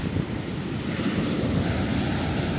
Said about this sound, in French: les vagues elles sont énormes